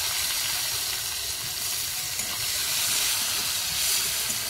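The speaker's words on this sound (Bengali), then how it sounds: "প্রথমে পেঁয়াজ কুচিটা দেবো" Chopped onions frying in a wok with cardamom, cloves and cinnamon give a steady loud hiss and sizzle, continuous and even with no pauses.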